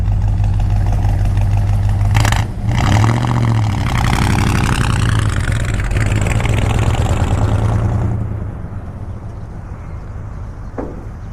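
A 1965 Chevrolet Custom C20 truck's engine rumbles loudly and steadily at close range while the truck is moved, with a brief surge around the middle before the sound eases off toward the end.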